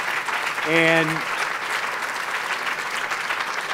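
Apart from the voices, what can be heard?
applause for the congressmen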